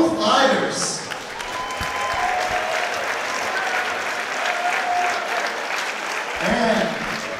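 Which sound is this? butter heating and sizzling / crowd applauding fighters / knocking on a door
crowd applauding fighters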